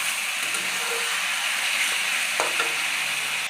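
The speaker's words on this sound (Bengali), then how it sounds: "মাংসটা আমার একটু তেলের উপরে ভাজা হয়ে গেছে" Chicken frying in hot oil, a continuous crackling hiss with a couple of faint clinks, no talking.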